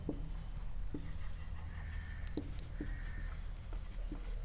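Pen scratching out an answer by hand for a class nine maths exercise, a quiet continuous scribble with small ticks and short strokes, faint and close against a low room hum, no one speaking.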